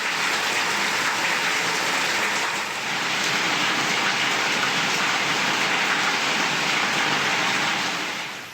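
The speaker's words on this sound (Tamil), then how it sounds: "அறந்தாங்கியில் கனமழை பெய்யத் தொடங்கியது" Heavy rain pouring down in Aranthangi, Pudukkottai district, Tamil Nadu, forming a dense, unbroken roar of hiss and patter that stays loud and steady throughout before easing slightly at the very end.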